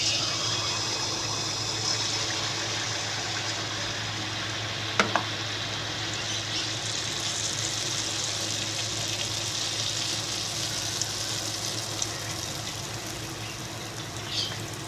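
Palm fruit pitha cakes frying in a pan give a steady, even sizzle throughout, with a low hum underneath and a couple of faint clinks near the middle.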